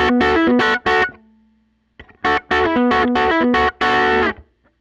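Teye electric guitar with its volume rolled back slightly, playing bursts of overdriven, distorted chords with a short sustained note and a pause, loud and close.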